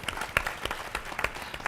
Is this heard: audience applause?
yes